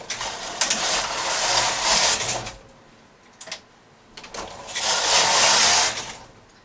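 A domestic knitting machine carriage is pushed across the needle bed while knitting a bag, giving two loud swishing, rattling passes separated by a short pause with a few small clicks.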